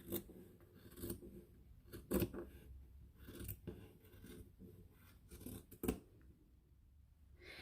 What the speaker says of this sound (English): I'm just gonna place the first one on the fabric and cut around it